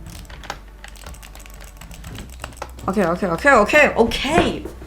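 Rapid clicking keystrokes on a new computer keyboard during a Roblox Bedwars session, steady close taps at first, then continuing under a person talking excitedly.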